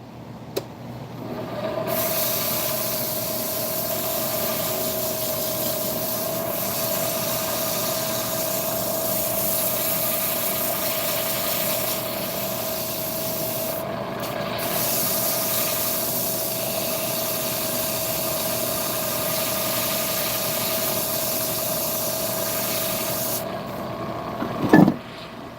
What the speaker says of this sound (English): and then I'm gonna sand it